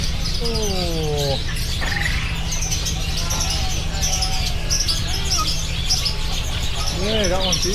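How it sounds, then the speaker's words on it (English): Many caged birds chirp and tweet in quick repeated calls at a busy bird market in Denpasar, Bali, under a constant crowd hum, with people talking nearby. "Oh, look at this bird."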